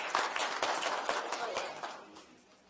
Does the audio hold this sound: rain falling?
no